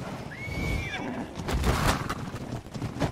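An injured horse in the video game Ark: Survival Evolved gives a short whinny, then hoofbeats and game noise continue underneath faint talk.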